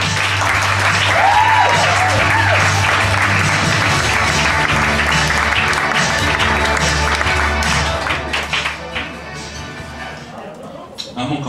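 Audience applause and cheering for comedian Randy Tonge at a stand-up comedy show, a loud sustained clapping wash that carries through most of the clip before thinning out near the end.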